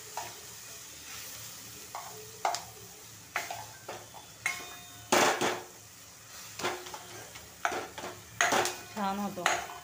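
Spices are crushed finely by hand with cloves for thecha chutney, producing a series of irregular close scraping and knocking strikes against a hard surface, separated by short pauses.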